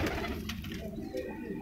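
Steady low cooing from a breeding pair of Ferozepuri pigeons, a soft rolling murmur that continues throughout at close range.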